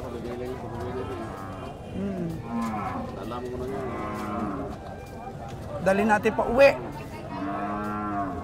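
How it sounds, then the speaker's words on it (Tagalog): A carabao, a water buffalo, moos several times in long low calls, fairly close, with people talking over and between the calls. "Ito ang kalabaw ni Winnie."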